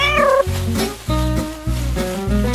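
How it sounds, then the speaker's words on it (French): A cat meows several times in quick succession, the drawn-out cries rising and falling over a steady low background. "Le chat a immédiatement voulu jouer avec."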